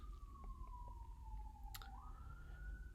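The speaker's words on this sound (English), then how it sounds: "That siren is so on the nose" A siren wails steadily in the distance, one long sliding tone gradually falling in pitch before rising again, over a low rumbling background.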